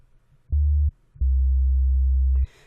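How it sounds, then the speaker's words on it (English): Two low sub bass synth notes, pure sine-like tones, one short and one held longer, with a faint higher noise at the end; clean, deep and alone with no voices. "so that's where my sub bass would pretty much start, is right around here"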